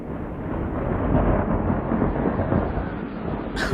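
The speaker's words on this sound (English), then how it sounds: "what did you think it was? Thunder." Thunder rumbles deep and continuous through a stormy night, a sustained low roll at moderate level without sharp cracks, ending as a faint higher sound enters.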